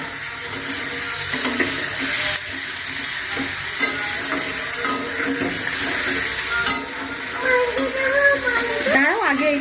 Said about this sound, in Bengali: এটা ভাজা হয়ে যাক দাও